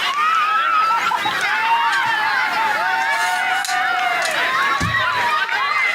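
Young fans packed in the stands at a junior B camogie championship final keep up a loud, sustained chorus of high-pitched shouts and cheers, voices overlapping in waves with a brief thump near the end.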